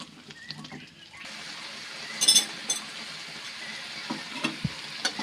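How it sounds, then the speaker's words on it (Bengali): Young jackfruit stir-fried with spices in a pan gives a steady close sizzle and fry, with scraping stirs and bright metallic clinks of a utensil against the pan. "মশলার সাথে এঁচড় খুব ভালোভাবে কষিয়ে নেব"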